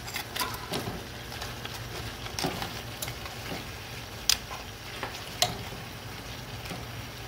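Beef short ribs sizzle and crackle in a pot of simmering Cabernet Sauvignon with garlic, a steady soft fry punctuated by a few sharper clicks and pops, close by with no talk.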